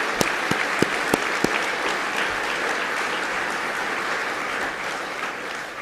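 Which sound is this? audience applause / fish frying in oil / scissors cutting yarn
audience applause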